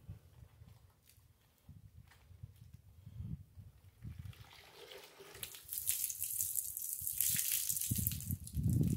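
Running water from a tap splashes and gushes intermittently while skunk fur is rinsed, growing louder and steadier toward the end.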